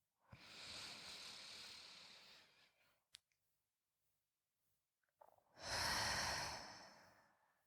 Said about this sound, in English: I'm going to take a deep breath.